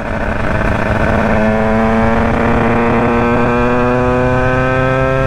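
A tuned Derbi moped with a modified 96 cc Bidalot WR engine runs loudly up close, its buzzing two-stroke drone steady with a slight rise in pitch partway through, no voices over it.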